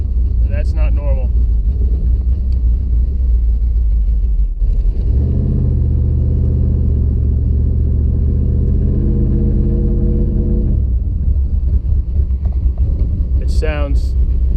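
Car engine fitted with Holley Sniper fuel injection idling rough and not yet fully warm, a loud close rumble with uneven, bouncing revs, with a few short squeaky sounds at the start and near the end.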